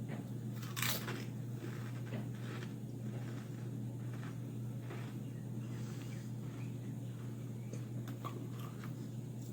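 Cajun fries flavored potato chips are bitten and chewed in a few faint, muffled crunches. A steady low hum sits underneath.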